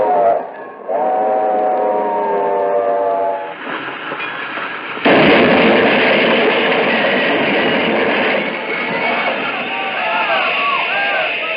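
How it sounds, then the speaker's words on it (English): A steam locomotive whistle shrieks as a radio drama effect, a long piercing tone over rumbling, clattering train noise that swells louder midway, with no talk over it. "A piercing shriek from the engine's whistle split the air."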